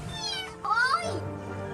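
A distressed kitten gives a single clear, rising meow, close and fairly loud, followed by a low lingering tone.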